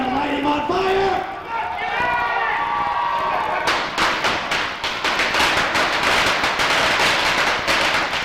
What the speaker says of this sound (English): We taped 100 firecrackers to his naked chest